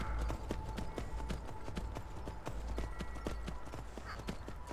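Horse hooves clip-clop steadily in the Skyrim video game, a regular trotting rhythm close by and fairly quiet over soft ambient background.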